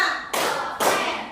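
Two crisp, loud unison claps from a class of students playing an ice-breaking clap game, evenly spaced about half a second apart with a short ring after each.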